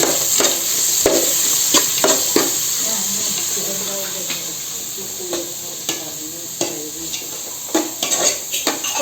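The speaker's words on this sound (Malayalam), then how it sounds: "വെളിച്ചെണ്ണ തിളച്ചിട്ടുണ്ട് അതിനകത്തേക്ക് ഒരു മൂന്ന് ഉള്ളിയും അതിന് പച്ചമുളക് ഇട്ട" Steady crackling sizzle of onions and green chilies frying in hot coconut oil, with occasional clinks and scrapes of a spoon stirring in the pan.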